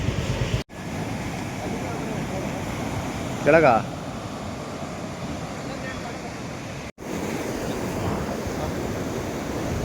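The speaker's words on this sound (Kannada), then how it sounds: "ಅಲೆಗಳು ಮಾತ್ರ ಇವತ್ತು ಹೆವಿ ಹೊಡಿತೈತೆ" Heavy ocean waves crash onto the shore at Udupi beach in Karnataka, a steady broad roar of surf with wind buffeting the microphone, and a voice speaks briefly over it.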